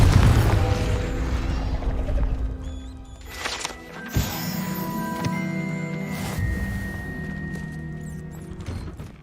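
A Confringo spell blast in the video game Hogwarts Legacy, a loud explosive burst with crashing and thudding debris around the four-second mark, then ringing game effects and a low rumble that fade away.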